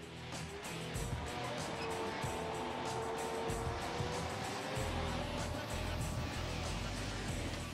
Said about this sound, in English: The first thing you noticed about driving the Bradley is that it steers just like a car